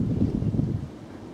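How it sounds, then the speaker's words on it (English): Wind blows across an open lane beside a sheep field on the North Downs Way in Kent in December, a low, steady buffeting rumble against the microphone that eases slightly toward the end. "as you may be able to hear, quite windy here."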